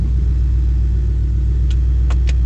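A 2008 Ford Mustang GT V8 with a swapped 6R80 automatic transmission runs steadily in gear, a loud, close, even low rumble with a few faint clicks near the end.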